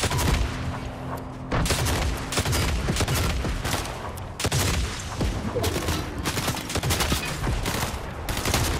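Dense rapid gunfire from a first-person shooter video game, sustained bursts of automatic fire and overlapping shots filling the whole stretch, loud and continuous with brief dips between volleys.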